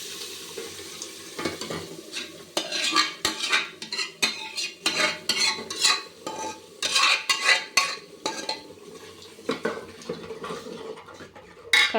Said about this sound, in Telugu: కాసేపు అలాగే కలపాలి దాన్ని.